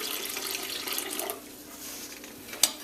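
Cranberry sorrel liquid for rum punch, with ginger in it, pours gently through a fine mesh strainer, giving a steady trickling splash that thins out midway and ends with a small clink.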